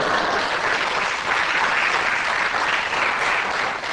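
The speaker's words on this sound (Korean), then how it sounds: "여러분 그 박수는 나한테 치는 게 아니야" Audience applause at a church talk: steady, dense clapping from a crowd, fairly loud and sustained throughout with no voices.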